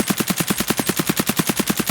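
Rapid full-auto bursts from an AKM rifle in Escape from Tarkov, a steady rhythm of about fourteen loud, punchy shots fired while crouched at a long-range target.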